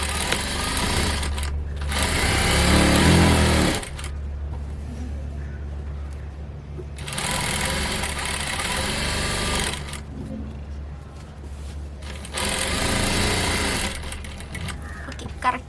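A sewing machine stitching fabric runs in three bursts of fast, buzzing, rhythmic stitching a few seconds each, with quieter pauses between where someone talks.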